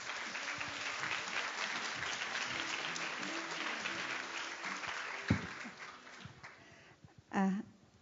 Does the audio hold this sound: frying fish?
no